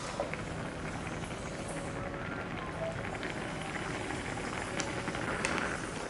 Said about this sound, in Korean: 그리고 조금 더 끓일 거예요.